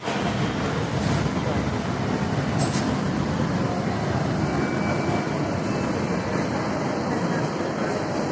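A steady, loud rumble of an MRT commuter train running along the rails, continuous and unbroken, with no clear voices.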